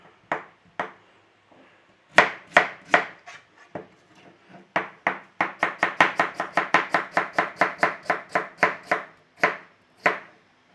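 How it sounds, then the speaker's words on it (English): Potatoes being sliced with a knife on a board: a run of sharp, close knocks, sparse at first, then a fast even rhythm of around twenty cuts before slowing to a last few strokes, with no talk. "Slice up your potatoes and put in a bowl"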